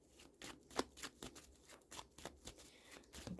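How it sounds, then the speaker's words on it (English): A deck of tarot cards being shuffled by hand, giving a run of quick papery riffles and soft slaps in an uneven rhythm, close and moderately quiet, with no talking. "let me shuffle the cards."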